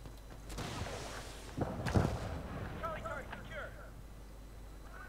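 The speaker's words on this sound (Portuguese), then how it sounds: "Olha, agora mandei uma granada sem querer." A grenade goes off in the Medal of Honor (2010) multiplayer shooter, a muffled mid-clip boom among quieter game noise and scattered distant gunfire, all fairly faint.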